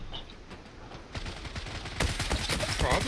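Gunfire in the online shooter Zula, aboard a ship map, comes as rapid bursts of shots that grow louder and denser toward the end, with game noise and voices mixed in.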